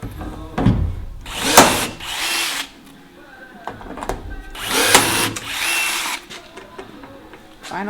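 A rivet being set on exterior vehicle trim, heard as two loud, harsh, drill-like bursts of a riveting tool, each about a second long and a few seconds apart, with quieter handling noise in between.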